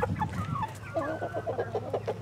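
Chickens clucking in a run, a dense flock calling over one another in steady overlapping clucks and squawks, fairly close and continuous throughout.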